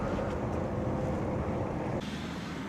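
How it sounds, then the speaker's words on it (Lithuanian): Steady wind buffets the microphone outdoors on a Norwegian road trip, a constant rushing roar with low rumble that eases slightly partway through, with no talking. "Na jau vėl peso vėjas"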